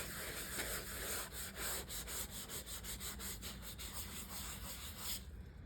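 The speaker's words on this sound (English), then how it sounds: "the second step of the process, the sanding" Steady abrasive scrubbing of sandpaper on leather car seats during a restoration, close and continuous, with a brisk back-and-forth rhythm in the middle before it stops abruptly, no talking.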